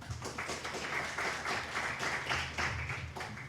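Audience applause at an astronomy-in-agriculture conference, a dense, steady patter of many hands clapping throughout, moderately distant and even in loudness.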